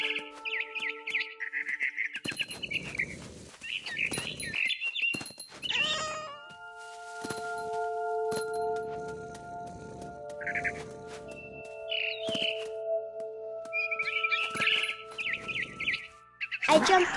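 Bright, repeated chirps of a barn swallow ring out in the video game What Remains of Edith Finch, alternating with a cat's meows and other game sounds, clear and close.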